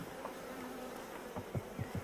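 Faint, steady buzzing of honeybees hums throughout, with a few louder passes of individual bees flying close toward the end.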